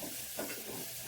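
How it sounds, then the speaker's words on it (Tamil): Ginger and garlic frying in a pan of oil: a soft, steady sizzling hiss, brief and close, with no voices. "இஞ்சி பூண்டு நல்லா கருக்கட்டும்."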